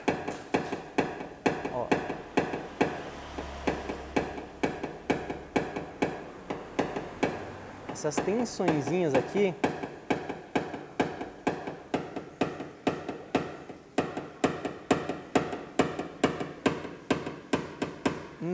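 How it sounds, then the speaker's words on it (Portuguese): A small hammer taps down a dent in a car body panel during paintless dent repair, giving a steady run of sharp, close metallic taps throughout, with someone speaking briefly over them. "Eu paro para simplesmente pegar o martelo e abaixar aqui um pouquinho."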